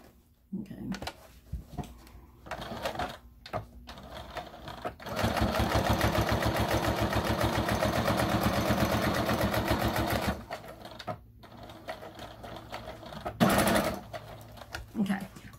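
Sewing machine stitching a fabric makeup brush holder, a steady rapid run lasting several seconds between shorter bursts and handling noises, close by, with a person talking intermittently around it.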